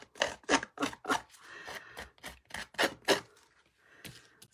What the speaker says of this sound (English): I hope you don't mind ripping and screwing up papers.